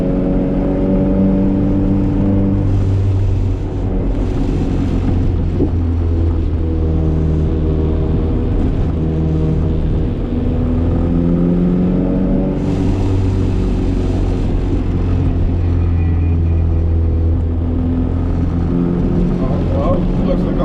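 A Honda Civic EG cruising on a highway gives off a steady, loud engine drone and road rumble throughout, with shifting engine tones as it pulls.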